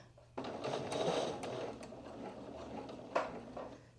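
A domestic sewing machine backstitching a seam on pants, a steady close whirring run of stitches lasting several seconds with a brief louder clunk near the end, no voices over it.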